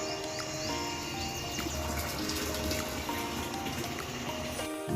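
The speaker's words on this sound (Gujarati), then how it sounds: "ત્યાં પાણી આવી ગયું પાણી ભરવાનું છે હવે" Water runs from a household tap into a container as a soft, continuous trickle, faint and fairly distant, with light background sounds.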